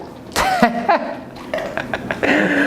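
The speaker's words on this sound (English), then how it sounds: "so I just burped there" A man burping several times in a row, short throaty belches with voiced croaky tones, close and fairly loud, spaced irregularly across a few seconds with no talking.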